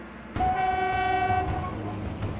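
Train on the Kalka-Shimla mountain railway sounding its horn: a loud, steady tonal blast lasting about a second over rumbling wheels and carriage noise that continues after the horn stops.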